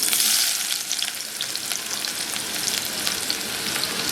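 Onions frying in a pan for a rustic jackfruit-seed mash, a steady close sizzle and crackle of hot oil with faint stirring scrapes throughout.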